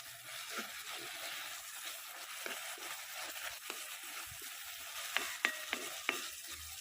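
Masala with tomato sauce and soy sauce is stirred in a frying pan for a soya chunk roast. Gentle sizzling runs throughout, with faint scraping strokes and a few light clinks near the end, quiet and close.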